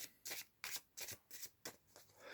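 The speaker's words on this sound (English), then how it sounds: "I'm going to pull a few cards to see what the angels." Oracle cards are shuffled by hand in six or seven quick, papery riffling bursts at an even rhythm, close and fairly quiet, with no voices.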